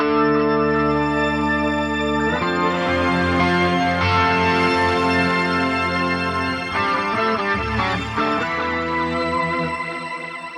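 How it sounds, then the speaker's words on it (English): Electric guitar run through a BOSS 200 series delay pedal with shimmer, sustained chords and notes ringing out with trailing repeats and a bright, pitched-up wash, loud and continuous without talk. "this is a delay with a shimmer"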